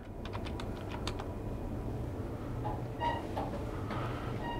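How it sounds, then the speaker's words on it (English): Someone types on a computer keyboard, with quick, light key clicks in uneven bursts over a steady low background hum, fairly close and moderately quiet. "let's type this out in a pretty way"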